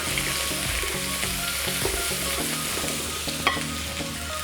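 Ingredients sizzle in hot oil for a coconut milk, sweet corn and spinach dish, making a loud, continuous frying hiss with occasional stirring clinks and one sharper knock near the end, with no one talking.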